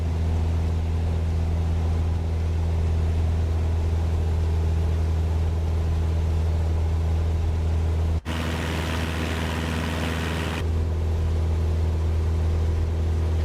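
ToLiss A340-600 airliner engines in Microsoft Flight Simulator give a steady, close, low droning hum with strong tonal bands, continuous throughout, with a brief break and a shift in tone partway through and no voices.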